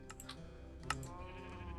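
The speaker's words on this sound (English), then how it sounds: "We got some sheeps." Sheep bleating in the video game Minecraft, a short wavering bleat in the foreground over steady background game noise, with a few faint clicking taps.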